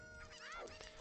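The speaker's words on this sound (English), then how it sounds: "This chicken's been a little bit rude." A chicken in The Legend of Zelda: Ocarina of Time gives a short, faint squawking cluck with a rising-then-falling call, quiet under light background sound.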